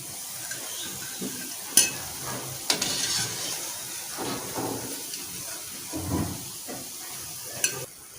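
Ripe banana pakoras fry in a pan of hot oil, a soft, steady sizzle with intermittent clinks and scrapes as pieces are lifted out and moved about.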